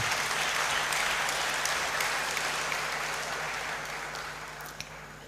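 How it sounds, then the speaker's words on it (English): Audience at a University of Ghana lecturers' event clapping in a hall, a dense, even patter of many hands at moderate volume that slowly fades over about five seconds. "you can clap for him"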